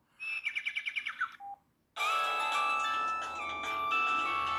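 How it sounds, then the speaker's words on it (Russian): A retro mobile phone's short, bright electronic default ringtone melody plays, followed after a brief pause by a fuller, sustained chiming tune, clear and close with no voices. "А, звук звонка, мелодию по умолчанию."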